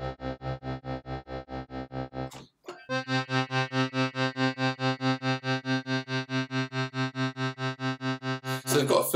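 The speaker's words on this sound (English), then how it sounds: "they've got a filter going on and off there, creating that pulsing sound" Tremolo synth patch from an Indian-instruments plugin playing sustained tones chopped into even eighth-note pulses by a filter switching on and off, briefly stopping and restarting; clear and alone, with a noisy burst at the end.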